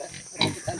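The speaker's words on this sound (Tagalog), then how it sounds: "Ito po yung aking biniling biik mga kababayan." A small newly bought piglet gives a couple of brief, close grunts with a short pause between them, with no voices.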